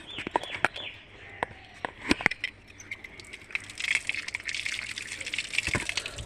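Water splashes and gushes over ant-covered flowers being rinsed, a close, uneven splashing that grows busier partway through, with sharp clinks and a few chirping birds in the background.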